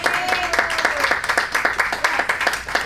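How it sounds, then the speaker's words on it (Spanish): A church congregation claps rhythmically for the Lord, steady close hand claps in an even beat, with a preacher's voice speaking over them. "Dile fuerte palmas al Señor"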